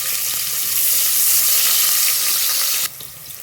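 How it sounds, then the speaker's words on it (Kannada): Chopped onion and urad dal fry in a pan with a loud, steady sizzle that drops suddenly near the end to a quieter crackle. "ಹಾಕ್ಕೊಂಡು ಫ್ರೈ ಮಾಡ್ಕೊಳ್ತೀನಿ."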